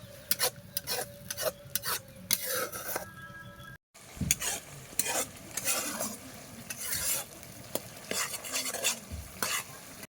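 Tomato spice masala frying in oil for a fish curry, stirred with repeated scraping strokes of a spoon against the pan over a continuous close sizzle, the rhythmic scrapes rising above the frying noise.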